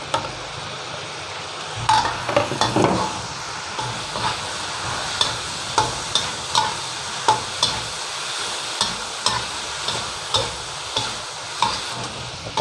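Mackerel and holy basil stir-fried in a wok over high heat, a steady loud sizzle with repeated scraping and tossing strokes of the utensil, no talking.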